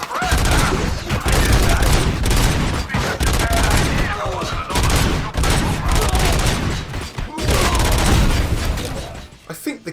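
Rapid Auto 9 pistol gunfire from RoboCop: Rogue City, a dense, continuous stream of loud sharp shots and booming impacts with game action throughout, almost no pauses.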